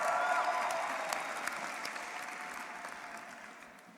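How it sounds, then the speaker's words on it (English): Commencement graduates applauding themselves, a broad wash of clapping from a large crowd in a big venue, heard at a distance and fading steadily over four seconds, with a faint tone at the start. "Give yourselves a round of applause."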